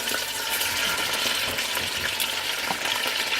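Chicken added to a hot pan for pulao, frying with a loud, continuous sizzle and spattering crackle throughout, no voices.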